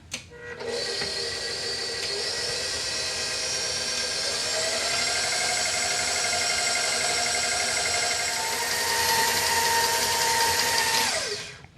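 An electric hand mixer whirs steadily at close range for about eleven seconds as it blends gluten-free flour, salt and baking soda for cookie dough, then spins down and stops.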